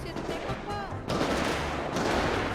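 Gunfire in a GTA V roleplay session, a dense burst of rapid shots that thickens partway through, with a voice talking underneath.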